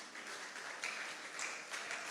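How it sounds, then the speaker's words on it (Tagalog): A church congregation claps together during a sermon, a soft, faint patter of many hands heard from a distance in a large room with no talk over it. "Maaari po bang pumalakpak sa Panginoon?"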